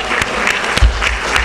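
Audience clapping in tribute at a Hindko language conference hall, a steady wash of applause filling the short moment with no voices over it.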